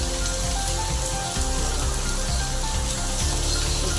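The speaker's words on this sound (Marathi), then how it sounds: "तुम्हाला दाखवते पाऊस कसा पडतो" Steady rain falls outdoors during the evening at a home where food is being cooked, a loud continuous patter and splash on surfaces with no talking.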